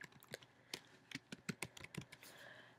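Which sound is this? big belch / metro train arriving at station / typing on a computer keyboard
typing on a computer keyboard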